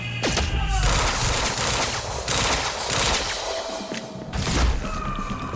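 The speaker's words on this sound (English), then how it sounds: "Open fire! Engage! Shoot him!" Quantum Break video game firefight: dense, loud bursts of automatic gunfire and thuds that pile up continuously and close, with voices shouting underneath.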